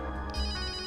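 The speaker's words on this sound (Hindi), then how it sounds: "फोन तो इस बैग में से बज रहा है" A mobile phone rings from inside a bag, a steady electronic ringtone melody at moderate volume, sounding slightly muffled and continuous for under a second with no talking.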